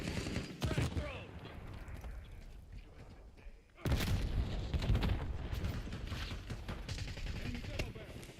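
In a video game, a frag grenade is thrown amid gunfire, with shots rattling in bursts, a sudden loud blast midway and continuous firing afterward, while voices talk over the action.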